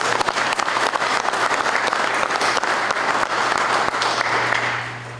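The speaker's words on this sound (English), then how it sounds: "I think we ought to give them a big round of applause." Sustained applause from a large crowd, steady and full for several seconds before beginning to fade near the end.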